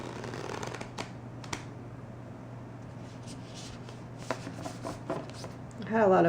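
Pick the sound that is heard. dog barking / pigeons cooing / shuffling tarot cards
shuffling tarot cards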